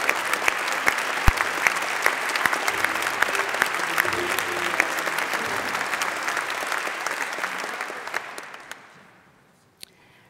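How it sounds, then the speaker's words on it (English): An audience at the 2017 European Heritage Awards ceremony in Turku gives loud, sustained applause for award winners, clapping evenly for about eight seconds before the sound fades out, with a few last scattered claps. "A warm applause for all award winners in the category Dedicated Service to Heritage."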